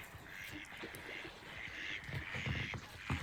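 Ducks quack softly outdoors near a roaming cat, faint scattered calls over a low ambient background, with a little quiet talk.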